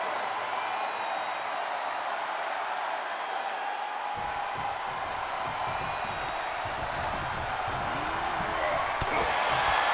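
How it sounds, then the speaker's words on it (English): Dense roaring crowd noise fills a WWE 2K22 SmackDown title-match arena between The Rock and Batista, loud and continuous throughout, with bursts of clapping and cheering swelling further in the second half. "The sound of this crowd is deafening"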